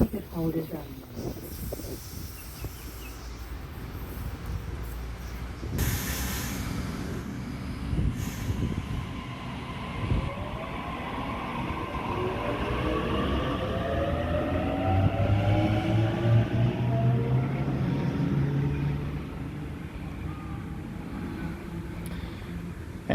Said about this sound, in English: there goes Waratah Series 1A8 bound for Hornsby via North Shore, Central and Strathfield